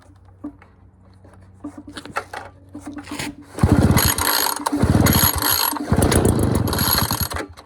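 A 53cc gas backpack leaf blower is pull-started: a few ratcheting cord pulls, then the engine catches and runs loudly with a buzzing, rattling drone, briefly dropping before revving again.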